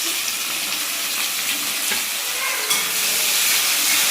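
Cumin seeds, chili and garlic sizzle in hot frying oil with onion for a Bengali egg curry, a steady close hissing crackle with faint stirring throughout.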